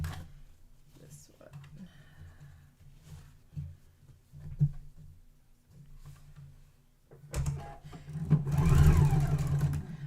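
A home sewing machine stitches a quilted, embroidered festive table runner with a quarter-inch seam, whirring faintly under intermittent talk before running louder and steadier toward the end.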